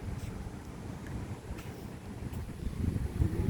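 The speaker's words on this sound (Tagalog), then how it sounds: "lakas ng hangin" Strong wind blowing at an outdoor spot at night, a constant rushing roar buffeting the microphone and swelling louder toward the end, with no voices.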